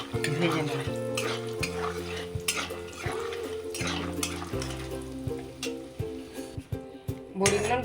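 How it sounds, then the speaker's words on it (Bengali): Bori lentil dumplings fry in oil left from frying fish, crackling and sizzling up close while a utensil stirs and clinks against the pan, with a faint hum underneath. "বড়িটা মাছ ভাজার তেলে আমি বড়িটা ভেজে নিচ্ছি।"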